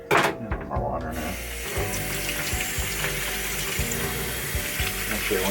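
Tap water runs steadily into a sink while parts from a 1974 Williams Star Action pinball machine's score reels are washed, a continuous splashing rush with occasional clatter and no talking.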